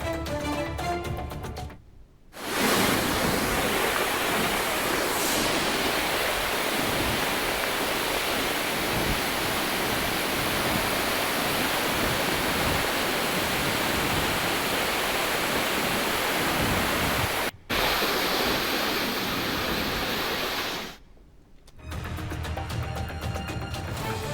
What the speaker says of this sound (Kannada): ದೂದ್ಗಂಗಾ ನದಿ ಅಪಾಯ ಮಟ್ಟವನ್ನ ಮೀರಿ ಹರಿತಾ ಇದೆ